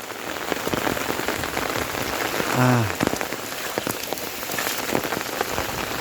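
Heavy storm rain in Laos pours steadily onto surfaces, a dense, loud, unbroken hiss of drops that fills the whole stretch without any talking.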